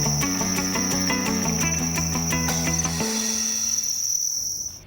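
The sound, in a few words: farmed crickets chirping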